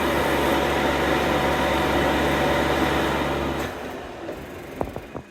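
A Yeedi C12 Pro Plus robot vacuum base empties its dust bin with a loud, steady motor whir that cuts off partway, followed by a few quiet clicks and knocks.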